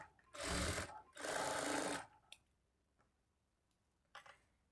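Sewing machine stitching a lining blouse, running in two short bursts of about a second each, close and fairly loud, followed by a couple of faint clicks in near-quiet.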